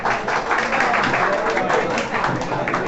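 Lively audience clapping welcoming a qawwali team at a college farewell party, a dense continuous applause heard close with voices mixed in.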